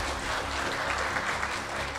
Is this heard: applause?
yes